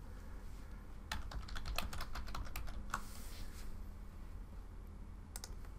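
Fingers tap out a note on a computer keyboard in a quiet room, a quick burst of keystrokes followed by a pause and a few more taps at the end.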